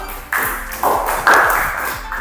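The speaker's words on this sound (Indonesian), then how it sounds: "Beri tepuk tangan kelompok 2" A classroom group claps for a presenting team in a short, uneven burst of applause that swells in a few waves over about two seconds.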